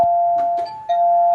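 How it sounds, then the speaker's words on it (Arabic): A doorbell rings indoors with a loud, sustained electronic tone that briefly dips and then resumes, standing alone with no talk over it. "ايه الجرس ده؟"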